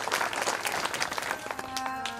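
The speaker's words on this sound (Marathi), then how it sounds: "एक वेळ दादाचं टाळ्या वाजून स्वागत करू आपण." An audience at a village religious discourse claps to welcome a man, a dense burst of applause that thins near the end as a sustained tone emerges.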